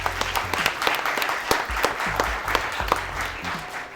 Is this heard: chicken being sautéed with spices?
no